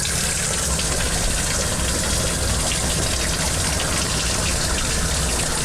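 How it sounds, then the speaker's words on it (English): Venturi pump fixed to a household sink, running on tap water pressure to siphon water out of an aquarium: a loud, steady rushing gush of flowing water that holds unbroken throughout, with no voices. "a Venturi pump that attaches to the sink that allows you to use your household water pressure to act as a siphon and suck everything out of the tank"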